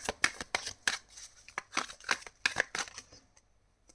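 Tarot cards are shuffled up close in quick, crisp riffling and slapping bursts in an uneven rhythm that fades out near the end, with no talk.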